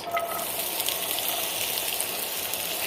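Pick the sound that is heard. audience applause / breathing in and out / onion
onion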